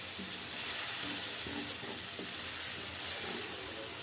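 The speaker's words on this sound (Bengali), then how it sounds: "ভালো করে মশলাগুলো কষিয়ে নিতে হবে" Spices for mutton curry fry in a pressure cooker pot with a constant close sizzle and hiss, occasional stirring scrapes surfacing over the steady frying.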